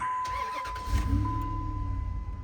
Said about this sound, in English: Now I can start my truck